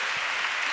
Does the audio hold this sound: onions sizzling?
no